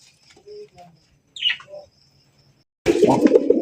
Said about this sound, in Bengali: ডাক দেখছেন, বাপরে বাপ, বাক বাকুম করে ডাকতেছে।